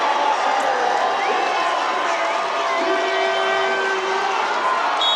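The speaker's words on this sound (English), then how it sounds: "the crowd is going crazy" An arena crowd at a professional volleyball match roars in a continuous, dense wash of cheering after an overturned call, sustained and loud throughout with no break.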